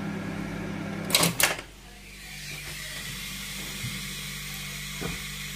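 Steady hiss of steam rising from wood being dried, a continuous broad noise after two brief sharp knocks near the start, with faint clicks scattered through.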